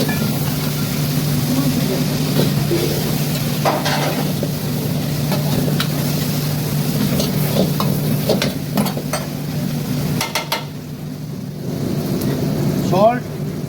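Celery, onion and spring onion sautéing with chicken in a pan, a steady close sizzle with stirring scrapes over a low continuous hum.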